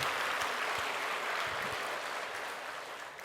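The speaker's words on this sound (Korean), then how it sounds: "뜨겁게 다시 한번 박수로 환영합니다." A church congregation claps in welcome, a soft, even patter of many hands that fades slightly toward the end.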